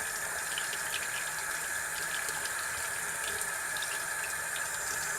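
Running water pours steadily from a tap while a homebrewing filter is rinsed, a constant close hiss and splash with no talking.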